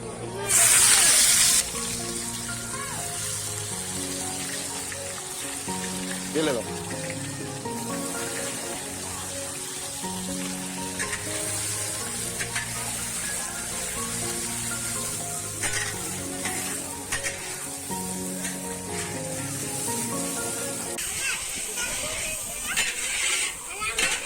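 Onions frying in oil in a pan for a chicken dish, a steady sizzle running throughout with a sharp burst at the start, while people talk over it and music plays in the background.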